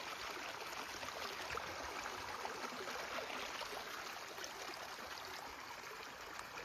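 Water flowing into a rose field being irrigated, a steady broadband rush and gurgle of running water, continuous and close, with no voices.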